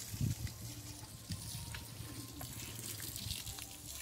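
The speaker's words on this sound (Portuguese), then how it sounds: "Vou colocar mais água." Water runs steadily from a garden hose on a farm, a continuous close splashing and gurgling stream with some low rumbling underneath.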